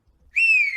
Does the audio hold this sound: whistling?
yes